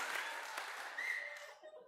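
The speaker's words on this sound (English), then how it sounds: "Wild applause." A church congregation at a Sunday service breaks into applause after a joke, a fairly distant, roomy patter of many hands that thins out toward the end, with a little laughter mixed in.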